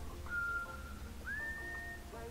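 A Far Cry 3 game character whistles an anthem in a cutscene, two sustained melodic phrases held at steady pitch, one short and one longer, over a low background hum.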